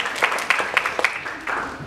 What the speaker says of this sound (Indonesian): Oke, kita kasih tepuk tangan buat Mas Ardi.